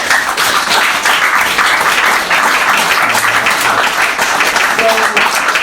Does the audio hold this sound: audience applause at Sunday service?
yes